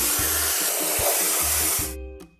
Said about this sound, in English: Let's paint over the discoloration.